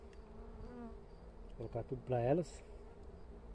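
Jatai stingless bees buzz steadily around a bamboo nest during a hive transfer, a soft continuous hum running under a man's nearby speech.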